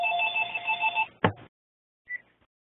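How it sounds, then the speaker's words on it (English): A home landline telephone ringing indoors, one loud electronic trill that cuts off with a clunk as the handset is lifted, then a short faint beep; no one speaks. "Apologies, I work at home and I forgot about our phone."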